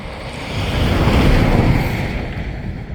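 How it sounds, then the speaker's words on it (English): A truck passes on a road beside the high-flowing Shasta River. Its deep rumble swells to a peak midway and then fades, blending with the river's broad, windy roar, with no one talking. "Sorry, thought I'd let that truck go by."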